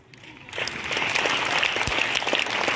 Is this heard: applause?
yes